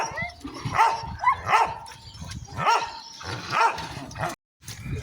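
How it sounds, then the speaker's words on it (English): Several dogs barking on a wet, muddy day, with four or five sharp barks in an uneven rhythm, fairly close and loud, mixed with yips and a brief whimper. "Shush dogs."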